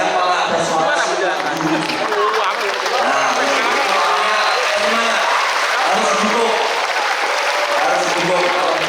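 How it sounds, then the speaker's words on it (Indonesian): Students clap with enthusiasm during a police outreach session, a dense and steady wash of applause that runs throughout, with voices mixed into the crowd noise. "Tepuk tangan yang semangat"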